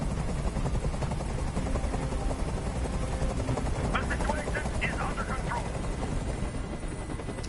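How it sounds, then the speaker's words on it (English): Helicopter rotor thumping steadily and loudly throughout in the video game Detroit Become Human, a continuous low chopping drone with brief higher clatter midway. "Tell that helicopter to get out of here."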